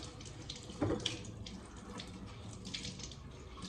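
A water tap runs steadily as someone wets their head to cool off on a very hot day, a soft close hiss of flowing water with a brief louder splash near the start.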